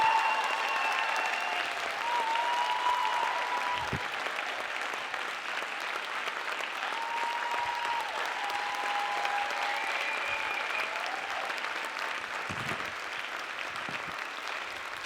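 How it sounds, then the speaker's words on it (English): Sustained applause from a large crowd fills the space, steady and loud throughout with a few whoops and shouts mixed in. "A big, massive round of applause to Shrina Patel!"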